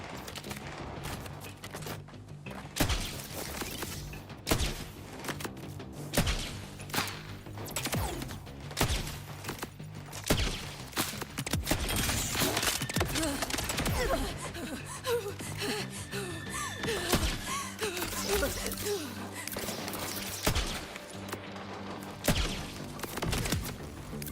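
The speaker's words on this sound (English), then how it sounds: "I love this sniper rifle." Sniper rifle gunfire in the Borderlands 4 video game: sharp, loud single shots crack at irregular intervals across the whole stretch, mixed with thuds, mechanical clatter and game effects, with no talk over them.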